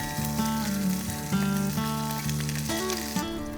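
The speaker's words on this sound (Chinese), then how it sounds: "第2个是姜片，生姜的香气成分有一些是油溶性的，同样也需要跟热油直接接触翻炒" Ginger slices stir-frying in hot oil, a steady sizzle running underneath louder background music with no pauses.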